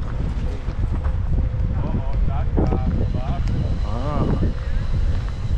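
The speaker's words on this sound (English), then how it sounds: "It's windy up here. I can hear it in my earpiece as I monitor the audio." Steady wind buffets the microphone with a low, constant rumble, while a person speaks briefly over it.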